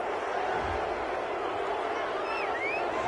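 Stadium crowd in a football video game reacting to a penalty call, a steady dense roar of murmuring and booing that holds at an even level for the whole stretch, with faint whistle-like tones near the end.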